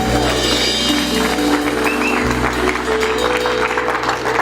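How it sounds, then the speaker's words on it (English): Applause from an audience at a United Nations 72nd anniversary commemoration, a steady wash of clapping over a continuous low hum and background tones, sustained throughout. "Please clap hands for the singer."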